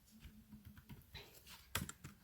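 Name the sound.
typing on a computer keyboard in Maple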